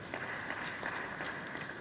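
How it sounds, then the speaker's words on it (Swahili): Audience applause at a water science conference, a steady wash of many hands clapping at moderate level, continuous and slightly distant throughout. "Asante sana, makofi kwake."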